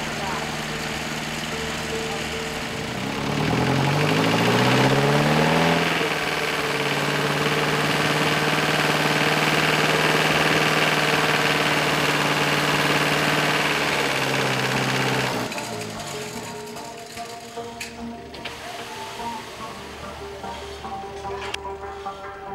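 A vehicle engine repurposed to haul a steel cable and iron bucket at a traditionally worked old oil well, running loud and close with a droning hum that rises in pitch, holds steady, then drops off into a lower rattling idle.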